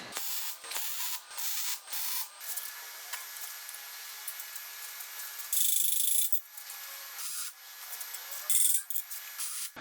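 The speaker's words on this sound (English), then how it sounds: "Watch your eyes, there's some welding going on here." Welding custom steel motor mount brackets for a Cummins 12-valve engine: sustained close crackling hiss in bursts of varying length, alone with no talk.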